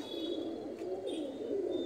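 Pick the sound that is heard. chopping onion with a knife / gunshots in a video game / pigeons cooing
pigeons cooing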